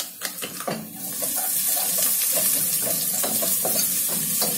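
Several ingredients dropped onto browned onions in a hot pan for an Indian-style pasta: a few knocks and clatters, then a steady, close sizzle that rises and holds to the end.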